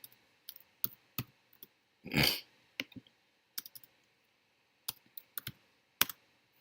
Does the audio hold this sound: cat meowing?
no